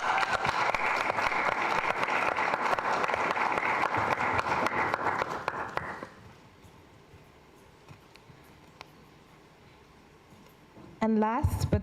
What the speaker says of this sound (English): Please give a round of applause for Miss Moya Lofa.